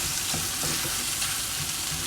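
Chopped tomatoes sizzle and fry steadily in a hot pan with garlic paste for a potato and peas masala, with soft scraping stir strokes repeating every half second or so, close and constant, with no talking.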